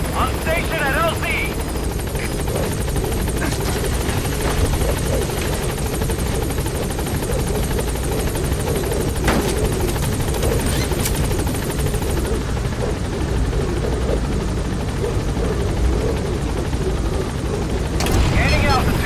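The B-Quad support helicopter from the game Metal Gear Solid V, a loud, continuous rotor drone and turbine roar filling the whole stretch, with brief thumps and radio chatter mixed in.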